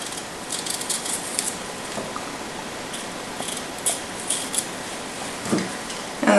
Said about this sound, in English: And then just cut it in wedges.